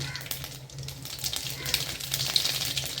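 Mustard seeds crackle and pop in a small amount of hot oil for an elephant yam curd pachadi, a steady close sizzle with scattered sharp pops over a low hum.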